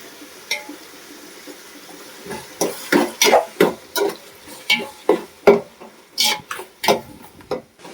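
Ginger garlic paste frying with tomatoes in a pan for egg biryani, stirred in a steady rhythm of about a dozen close scraping strokes over a soft background sizzle, with no talking.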